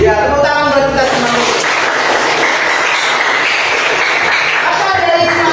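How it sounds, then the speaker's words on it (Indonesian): A classroom group of teachers claps together in a dense, loud, sustained burst that runs the full length without a break, with voices mixed into the start and end. "tepuk tangan buat kita semua"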